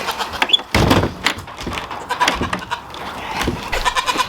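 A few goat bleats sound close amid thumps and rustling, as if goats are shuffling around inside a ventilated shed on a farm in cold weather.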